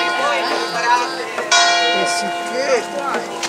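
Church bells of the Collegiata di Santa Maria a Monte ring loud and close with a rich, sustained tone and repeated strikes, while people speak briefly over them.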